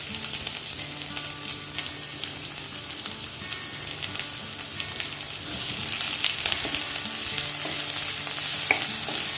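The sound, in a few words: garlic and onion frying lightly in oil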